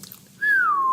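A slide whistle gives a single smooth tone that glides downward and holds near the end, loud and close, following a brief moment of quiet.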